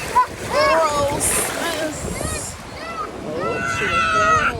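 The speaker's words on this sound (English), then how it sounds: "she was throwing water" At Galveston beach, a child throws water, making splashes and splatters close by amid surf, with voices and child chatter throughout.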